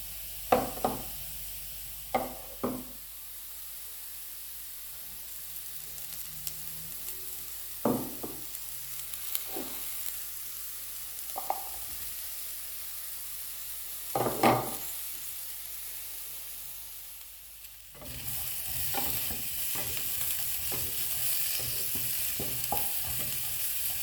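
Onion and bacon fry with potatoes in a pan, a soft continuous sizzle broken by several sharp stirring scrapes, then a louder burst of frying toward the end.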